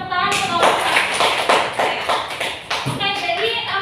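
A classroom gives a short round of clapping, a few distinct hand claps and taps over a rough rhythm, with people talking over them.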